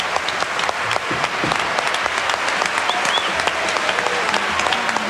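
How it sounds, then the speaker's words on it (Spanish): Audience applause at a live 1970s Peruvian jazz performance, sustained rapid clapping from a sizeable crowd for several seconds, loud and even, with a few voices faintly under it. "A ver, un aplauso para que cante Pablo."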